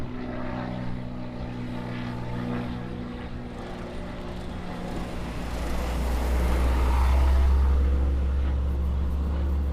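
A Hawaiian Airlines airliner passes at Honolulu airport, bound for LAX; a distant, low engine rumble swells gradually toward the end over steady background hum.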